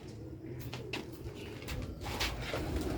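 Sialkoti pigeons coo in soft, repeated throaty rolls, heard close over a low background murmur.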